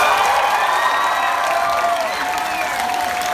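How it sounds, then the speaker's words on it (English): A crowd at a rock concert in Dublin applauds and cheers together, a dense wash of clapping with a few higher shouts, sustained throughout. "Give yourselves a round of applause, everybody."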